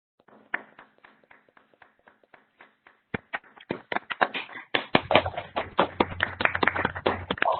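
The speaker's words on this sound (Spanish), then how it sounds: "A todo el público les pido activar su micrófono para brindarles un fuerte aplauso." Audience applause picked up through many open microphones during an online student exhibition session, starting as scattered separate claps and building into dense, overlapping clapping with some background hum.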